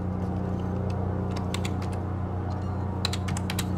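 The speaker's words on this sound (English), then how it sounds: "Fancy keyboard." Typing on a keyboard at a console in the Alien Isolation video game produces clusters of crisp key clicks, sparse at first and then denser, over a steady low mechanical hum.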